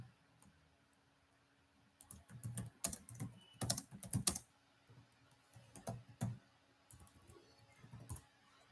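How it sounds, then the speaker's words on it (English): A computer keyboard clatters in close bursts of quick key presses, with short pauses between runs, quiet and alone. "You can type text or you can type numbers."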